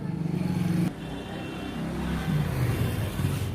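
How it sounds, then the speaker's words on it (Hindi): Steady traffic rumble from a nearby road beside a repair workspace, with a continuous low engine drone and a passing vehicle's hum that shifts in pitch, moderately loud and uninterrupted. "यहाँ गाड़ियों का शोर बहुत है,"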